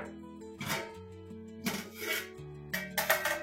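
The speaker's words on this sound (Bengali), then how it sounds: "এবার আমি ঢাকাটা খুলে দেখছি হয়েছে কিনা।" A metal lid lifts off a pot of steamed mango semolina cake, giving a few close clinks and scrapes at uneven intervals over a steady tonal background.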